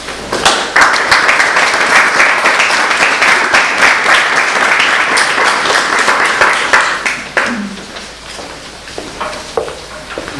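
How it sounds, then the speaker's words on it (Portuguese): Audience applause at a Portuguese literary prize ceremony for poetry readings, loud dense clapping from a crowd that swells and holds for about seven seconds, then thins to scattered claps and trails off. "para quem peço uma salva de palmas"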